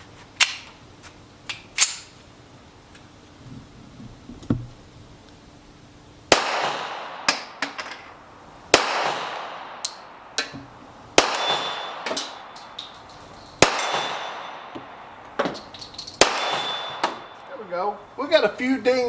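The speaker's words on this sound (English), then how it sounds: "Now we're gonna go to the 1943 Ithaca. It's the 1911A1. We're gonna shoot 5 rounds of it" Five sharp pistol shots from a 1943 Ithaca 1911A1 ring out at a range, each crack spaced a couple of seconds apart with a metallic ring of steel targets, while people talk quietly between shots.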